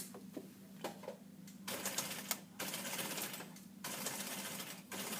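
A sewing machine runs in bursts while stitching a seam around a garment's neck, its rapid mechanical whirring starting and stopping several times with short quiet gaps between runs.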